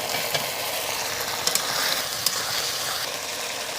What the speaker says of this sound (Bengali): এখন আমি আলু সয়াবিনগুলো দিয়ে নেব সিদ্ধ করা আলুগুলো দিয়ে দিচ্ছি